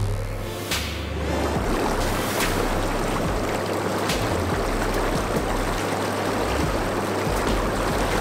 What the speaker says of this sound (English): So those are the bubbles in operation at the moment.